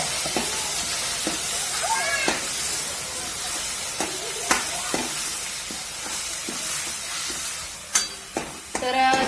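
Vegetable curry masala sautéing in a pan, a soft steady sizzle with intermittent clinks and scrapes of stirring, moderately close.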